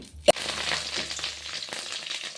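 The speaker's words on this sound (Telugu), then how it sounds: "పచ్చిమిరపకాయలు వేపుకోవాలి, మంచిగా మగ్గాలి." Green chillies fry in a pan with a steady close sizzle that starts after a sharp clack and keeps going with faint crackles.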